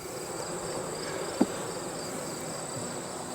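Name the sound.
bees in storm-damaged hive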